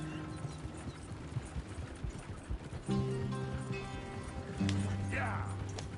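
A horse gallops in the video game Red Dead Redemption 2, with rhythmic hoofbeats running steadily under music and ambient tones, the pace picking up partway through.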